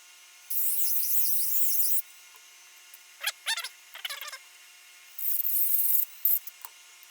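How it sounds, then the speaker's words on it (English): A Dremel rotary tool grinds out a cavity in a Firefly FFST guitar body during a shred-machine conversion. Two sustained high whining passes, separated by short scraping, rasping bursts, and a brief final buzz, all close and without speech. "I'll just go ahead and open the space up a little bit with the rotary tool"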